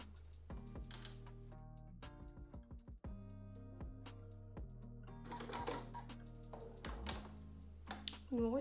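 A sewing machine runs a short stitching pass 1 cm from the edge of a blouse sleeve, with rhythmic mechanical clatter in bursts, starting and stopping, plus a few small clicks and handling noises close by.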